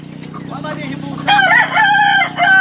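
A rooster crows loudly and close by, one long strained call that rises and breaks, over a steady low rumble of background noise.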